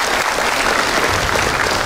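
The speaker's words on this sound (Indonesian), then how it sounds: "Tepuk tangan dulu loh buat Bapak." Studio audience at a Valentine's Day talk show breaks into loud, dense applause, a continuous wash of many hands clapping close and unbroken through the moment.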